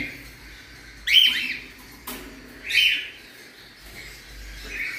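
Cockatiels with their chicks give a few bright chirps and whistles at about one-second intervals against a quiet background, close by and clear with no talking.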